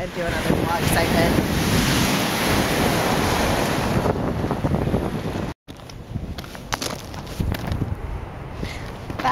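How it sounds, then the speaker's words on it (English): Waves breaking on the Lake Superior shoreline near Duluth, loud and close, with heavy wind buffeting the microphone, a brief dropout midway, then the surf continuing somewhat softer. "That's Lake Superior."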